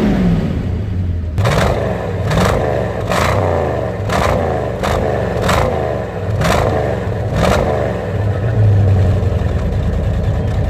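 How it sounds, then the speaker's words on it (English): A 1966 Ford Mustang V8 engine revs loudly and close by, rising in a run of repeated throttle blips over a steady idle rumble, with no talking. "There it is, the V8 sound."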